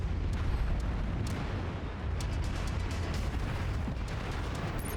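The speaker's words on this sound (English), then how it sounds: "Big explosion." Explosions rumble and crackle in MechWarrior 5: Mercenaries during a battle among mechs, a dense continuous roar with sharp bursts popping through, loud and sustained with no pause.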